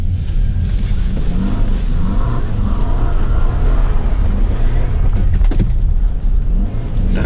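2022 Toyota Sienna van driven hard through powder snow, loud steady engine roar with rushing hiss and a few sharp bursts near the end, continuous and close.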